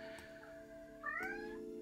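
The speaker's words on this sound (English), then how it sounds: "now you can hear my cat. She wants food." A house cat meows for food, one clear rising call in the middle of the clip over faint indoor background hum, fairly quiet and alone without speech.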